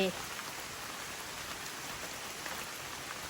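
Rain falls in a forest as an even, unbroken wash of hiss, close and constant with no other clear sounds above it.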